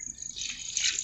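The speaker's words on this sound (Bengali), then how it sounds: "তো এটাকে জল দিয়ে ধুবো।" Water pours over an egg to rinse cow dung off its shell, a steady splashing stream that swells louder toward the end of the short burst, heard alone without talk.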